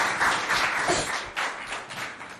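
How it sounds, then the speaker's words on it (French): An audience applauds pupils at a school quiz competition in Doba, a busy, uneven patter of clapping hands rising and falling in waves, moderately close and continuing to the end. "Applaudissez-les bien fort."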